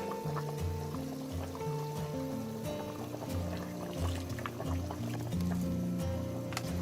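Water pours into a pot of pork legs being braised, a continuous liquid splashing and gurgling that fills the pot, close by, with tonal clinks and bubbling over it and no talk.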